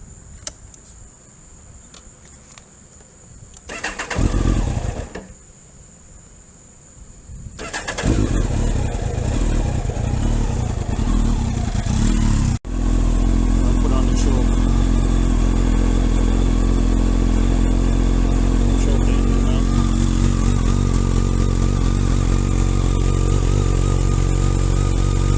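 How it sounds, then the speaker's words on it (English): Kawasaki ZX12 motorcycle with a shortened exhaust canister, starting up and then settling into a steady, loud, continuous engine drone close by, after a short rev and a pause. "I'm gonna turn it on now so you guys could hear what it sounds"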